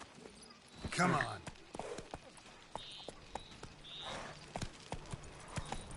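A horse's hooves clip-clop in an irregular walking rhythm in The Witcher 3, faint and mixed with game sounds, while a voice speaks briefly.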